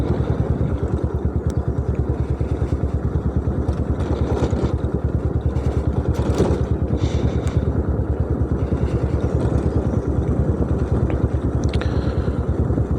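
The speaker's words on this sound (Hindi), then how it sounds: "ये देखें बाइक न्यूट्रल है और न्यूट्रल ही नीचे जा रहा है बाइक।" A motorbike coasts downhill in neutral on a hilly mountain road near Thandiani, Abbottabad, its engine idling in a steady, close, even putter with no revving throughout.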